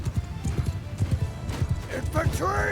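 Horse hooves clip-clopping in the Mount & Blade II Bannerlord video game, a rapid run of hoofbeats with a brief whinny near the end, mixed under someone talking.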